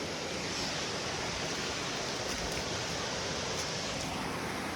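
A fast, dangerous river rushes loudly and steadily close by, a dense broadband roar that fills the whole clip with no pause.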